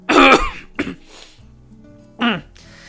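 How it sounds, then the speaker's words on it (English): A man clears his throat several times in quick bursts, a heavy rasping rumble followed by shorter harsh clears, close and loud, with faint background hum between them. "I'm gonna clear my throat right now because I don't feel that well"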